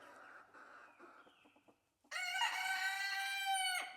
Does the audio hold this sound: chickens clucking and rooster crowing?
yes